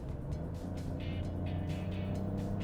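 A 2021 Ford Bronco Sport with the 1.5-liter EcoBoost turbo engine under way, giving a steady, close, low engine drone with road rumble and no talking.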